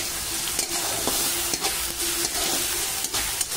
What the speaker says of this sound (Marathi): तुम्ही बघू शकता दोन्ही चांगलं शिजत आहे, म्हणजे तेलामध्ये